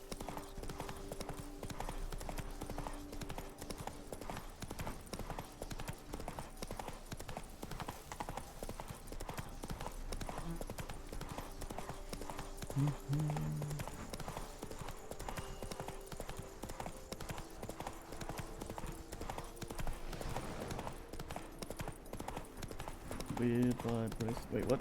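Roach, a horse in The Witcher 3, gallops with steady, continuous hoofbeats throughout, set against game music and ambient sound, with talk occurring alongside.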